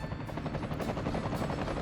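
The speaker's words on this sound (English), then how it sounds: "2 little rescue helicopters gonna land on the roof" Two small rescue helicopters in the Workers & Resources city-building game descend to land on a rooftop, their rotors chopping steadily and loudly without a break.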